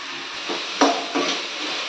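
Ivy gourd (kovakkai) sautés in a pan with a steady close hiss, broken by a few dull clinks and scrapes as it is stirred.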